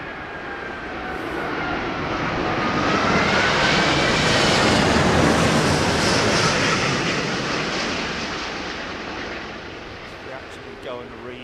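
An Airbus airliner landing at London Heathrow during Storm Darragh, its engines roaring loudly as it brakes hard on the runway, a broad sustained rush swelling and then easing off, with wind noise and a voice talking over it.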